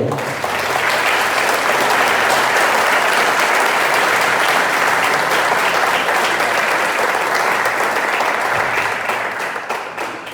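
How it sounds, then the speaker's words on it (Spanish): Loud, continuous applause from a church congregation giving praise to the Lord during a service, a thick wash of many hands clapping together that holds steady throughout and eases slightly only at the very end. "Den un aplauso al Señor"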